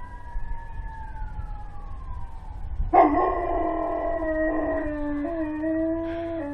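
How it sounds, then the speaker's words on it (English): A wailing emergency siren sounds in the distance, and partway through a dog breaks into a sustained howl over it. The howl rises and wavers along with the siren. "we got some sirens in the background, so we should hear Cinder sing in a minute here."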